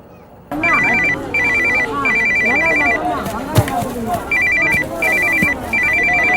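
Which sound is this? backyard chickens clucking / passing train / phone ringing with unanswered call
phone ringing with unanswered call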